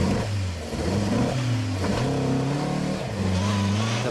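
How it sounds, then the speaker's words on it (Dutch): An Opel Ascona rally car's engine fires up again and revs hard, its pitch rising and falling in repeated surges after the car slides off a rural stage into a ditch; a commentator speaks over it. "De motor slaat nog aan."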